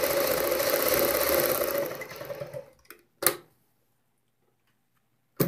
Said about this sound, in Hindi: फिर से हम इसी प्रकार से मशीन घुमाएंगे।